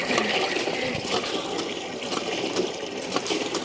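Water gushes strongly from the outlet of a homemade 1/4 HP motor pump, a steady loud splashing rush with scattered bursts of spray that never lets up.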